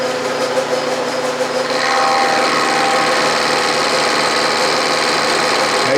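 A small 6 inch Atlas lathe set up for milling runs with a steady motor hum and mechanical whine. A faint cutting tone rises after about two seconds and holds steady, loud and close, with no talking.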